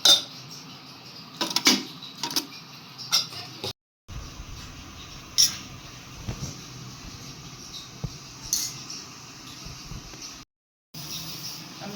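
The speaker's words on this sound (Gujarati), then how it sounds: "તો જો મારી મમ્મી વાટકી સરસ ભરવા માંડી છે।" Steel bowls clink and scrape faintly in a home kitchen as a mother fills them with rice and chana dal dhokla batter. Scattered light metallic taps come in small clusters, with short quiet gaps between them.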